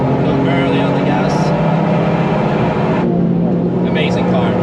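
A Toyota GR Yaris accelerates on a track, its engine a loud, continuous roar that holds steady throughout, with a brief shift in tone midway.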